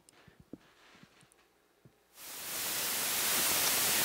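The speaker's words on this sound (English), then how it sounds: "what you hear is pure white noise." Hexinverter VCNO voltage-controlled noise oscillator synth module: a steady, loud hiss of pure white noise swells in halfway through after quieter clicks and faint tones, then holds constant and full.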